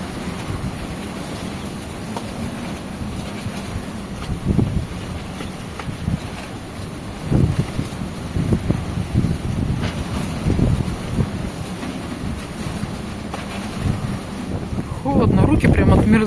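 Very strong wind roars and buffets a microphone outdoors in a snowstorm at minus 12, blowing and drifting snow, a loud continuous rush with heavier gusts throughout.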